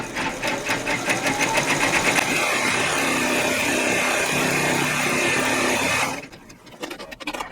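A multi-needle embroidery machine stitches a placement line for the batting of a Christmas tree skirt, a steady, fast mechanical rattle close by for about six seconds before it stops, leaving faint handling noise.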